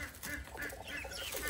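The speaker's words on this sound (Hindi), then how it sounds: "ये देखें यहाँ पे हमारे टर्की बर्ड बैठे हुए हैं" Turkeys and chickens feeding outdoors, with mixed clucking, gobbling and soft bird calls close by, continuous and fairly busy throughout without speech.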